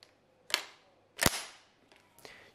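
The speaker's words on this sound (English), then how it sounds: "You close the bolt and pull the trigger. Nothing happens." An unloaded tubular-magazine shotgun is handled with its bolt worked, giving a few sharp, close mechanical clacks and a trigger click spaced across a quiet background, with no voices.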